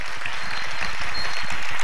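Audience applause at a Hindu religious discourse during a murti pratishtha festival, a steady crowd clapping that fills the whole short stretch at a fairly loud level.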